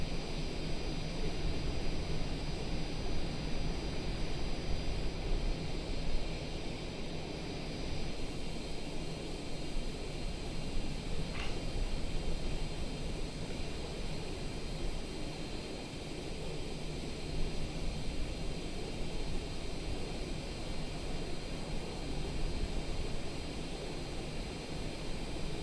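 Simulated Cessna 170 light aircraft engine drones steadily inside the cockpit, a continuous broadband roar with faint high whine, unbroken and without speech.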